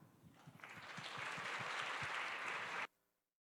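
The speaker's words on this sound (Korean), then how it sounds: "동안의 박수로 환영하겠습니다" A church congregation at a Sunday young-adults worship service breaks into sustained applause to welcome a speaker, the clapping swelling and holding steady before stopping abruptly.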